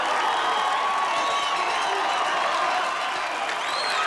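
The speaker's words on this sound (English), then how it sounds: "The crowd anticipating a great fight now as Apollo is in the ring." A boxing arena crowd from Rocky IV cheering as a fighter enters the ring, a dense, continuous roar of cheers, whoops and applause that sounds fairly distant.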